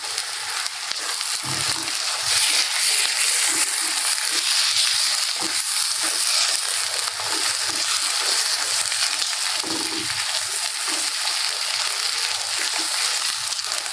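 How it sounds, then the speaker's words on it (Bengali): A spice paste of ginger, garlic, chili, coriander and turmeric fries in a pan with a steady close hiss, broken by occasional soft scraping and stirring sounds. "দিয়ে এটাকে একটু ভাজা ভাজা করে নিব।"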